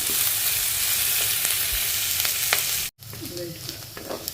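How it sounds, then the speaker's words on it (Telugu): Sliced onions frying in a pan for a gourd and lentil curry give a loud, continuous close sizzle, briefly cut off near the end before resuming more softly. "కొంచెం ఉల్లిపాయలు వేగేంత వరకు ఉందామండి"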